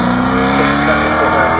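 Holden Commodore V8 Supercar at a sprint event in Leyburn, a loud, close, steady engine roar as it races past, with a voice talking over it.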